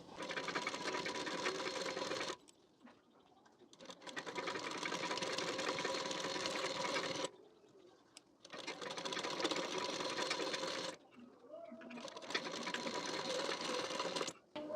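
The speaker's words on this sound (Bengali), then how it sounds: "তো এইভাবে রেখে এর উপর থেকে সেলাই দিয়ে নেবো" A sewing machine stitches lace onto the front of a blouse in three long steady whirring runs, separated by short quiet pauses, loud and close throughout.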